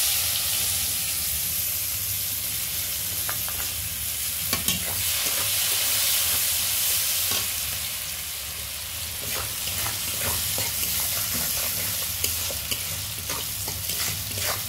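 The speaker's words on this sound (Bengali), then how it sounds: "এই পেঁয়াজটা বেশি ভাজতে হয় না, লবণ হলুদ মাখিয়ে রাখলে অল্প ভাজলেই হয়ে যায়" Onions coated in salt and turmeric frying in a pan, a loud, continuous close sizzle and hiss with intermittent scraping and clicking of a spatula stirring, no one talking.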